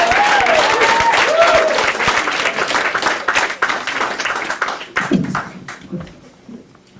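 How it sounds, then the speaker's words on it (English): Comedy club audience at Gotham Comedy Club in New York applauding a comedian as he is introduced; loud, dense clapping with cheers, a voice over it early on, then the applause thins and fades toward the end. "Start clapping right now for my friend, Mr. Luke Stymest, right there."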